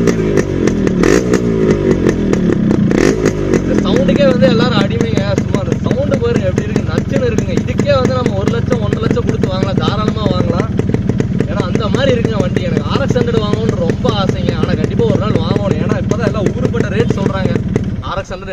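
A modified 1995 Yamaha RX 100 two-stroke motorcycle revs loudly and close, its engine crackling and rising then settling into a rough, popping idle that continues steadily throughout.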